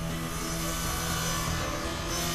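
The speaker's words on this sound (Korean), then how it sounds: "순식간에 나무를 절단하는 전기톱은 언제나 위협적이다." An electric saw cuts through thawed timber in a workshop, giving a loud, unbroken roaring whine that holds steady throughout.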